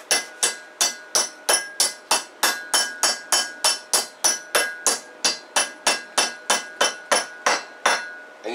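Steady hammering on a C-clip being driven into a U-joint on a 1989 K5 Chevy Blazer: about twenty sharp metallic strikes at an even, quick pace, each with a brief ringing clink, close and alone.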